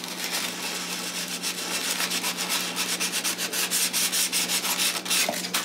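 Coarse, very rough grit sandpaper is rubbed by hand over a wooden thrift-store cabinet, making close, rhythmic scratchy strokes that quicken and grow louder toward the end, with no talking.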